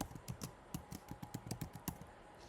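Typing on a computer keyboard: quick, uneven bursts of close, crisp key clicks over a couple of seconds, with short pauses between runs of keystrokes.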